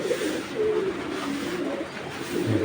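A pigeon coos in soft, low, burbling phrases close by; the female sits in her nesting pot, likely about to lay eggs, and there are no voices.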